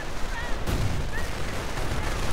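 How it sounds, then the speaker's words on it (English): MG42 machine gun fire in a WWII real-time strategy game, a sharp burst followed by continuous crackling battle noise under distant explosions and a steady low rumble. "MG42 firing all it can."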